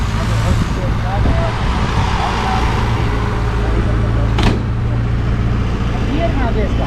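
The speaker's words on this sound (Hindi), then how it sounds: "ये देखिए दोस्तों गाड़ी स्टार्ट हो चुकी है" A vintage British-era car's engine idles steadily and loudly at close range, a continuous low rumble, with people talking over it and a brief sharper noise partway through.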